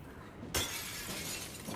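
Glass smashing in the horror video game Little Nightmares III: one sudden shatter, fairly faint, followed by a short tail of scattering fragments over a low background.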